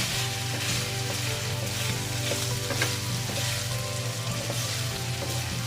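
Pork frying in oil in a pan, rendering its fat for sautéing onion and garlic, gives a steady, dense sizzle with faint crackles that holds evenly throughout, close and moderately loud, with no voices.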